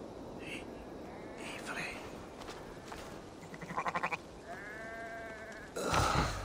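A sheep bleats in Assassin's Creed Valhalla, a wavering cry near the middle of the clip amid soft game ambience, with a voice talking over parts of it.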